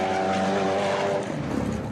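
A rear-engined V8 dune buggy driving on Abu Dhabi sand dunes, a loud, close engine roar with a steady harmonic drone that eases off and turns rougher near the end, no talking.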